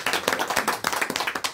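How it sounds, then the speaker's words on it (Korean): A church congregation claps in welcome during a Korean Sunday morning service, a brisk, steady burst of many hands close by, loud and even throughout, with no voices over it. "우리 박수로 한번 환영해 주시고"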